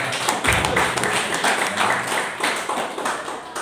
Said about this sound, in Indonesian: Haleluya, tepuk tangan